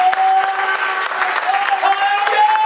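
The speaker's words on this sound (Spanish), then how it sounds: "Y un aplauso a Dios." Church congregation claps during a bilingual worship service, steady applause mixed with sustained voices or tones and shouted praise over it.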